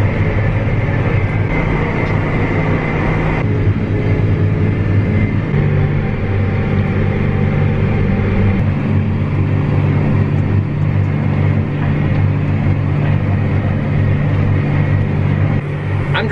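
A farm tractor drives across a soybean field at a steady planting pace, a loud, continuous low engine rumble with rattling, shaky vibration throughout and no talking.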